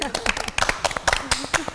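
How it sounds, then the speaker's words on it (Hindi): Studio audience on a Pakistani morning TV show clapping for Kashif, scattered uneven claps near and mid-distance, mixed with talking voices throughout. "आप लोग जरा काशिफ के लिए तालियां बजाने प्लीज"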